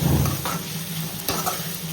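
Onions frying for egg curry, a soft close sizzle with a spatula stirring and scraping them around the pan, brief and with no voices.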